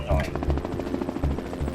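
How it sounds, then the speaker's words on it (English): The police helicopter India 99, carrying a thermal imaging camera, thuds overhead in a fast, regular rotor beat, loud and close under a voice. "Helicopter India 99 and its thermal imaging camera are also still on the case,"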